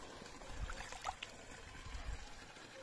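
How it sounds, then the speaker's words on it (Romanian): Fresh water trickles steadily into a bathtub set out by a drained fish pond, a soft continuous outdoor flow with a few faint splashes and no voices. "de acolo îi vine apă, proaspăt"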